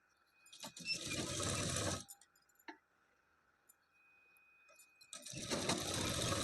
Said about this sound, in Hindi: इसी तरह से सिलाई लगा देनी है।